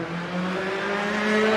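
A rally car's engine on a tarmac stage of a rally, a loud sustained tone that steps up in pitch like a gear change, then builds steadily over a second and a half.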